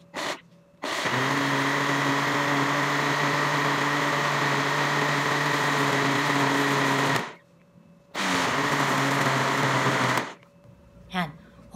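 Kitchen blender puréeing Arab shurba soup, two long steady motor whirs of several seconds each with brief stops between, ending with a short burst.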